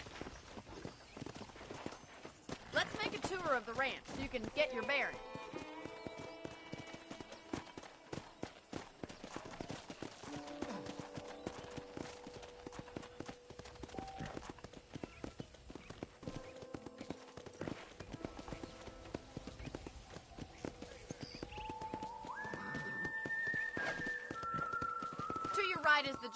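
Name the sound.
horse riding in video game Red Dead Redemption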